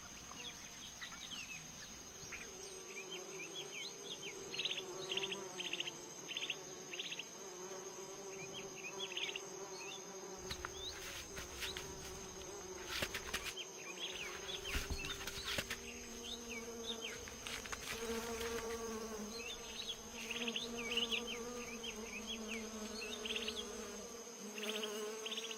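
Insects buzz steadily over the whole stretch, with many small overlapping whines near and far and a constant drone under a few brief rustles.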